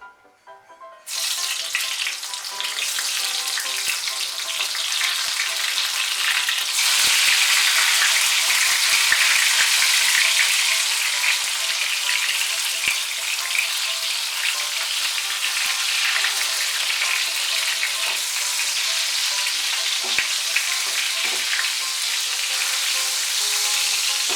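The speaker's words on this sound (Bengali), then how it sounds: "তেলটা গরম হয়ে গিয়েছে, আমি নুন আর হলুদ মাখিয়ে বেগুনগুলো ভেজে নিচ্ছি।" Salted, turmeric-coated eggplant slices fry in hot oil with a loud, continuous sizzle that begins after a brief quiet start and stays strong to the end.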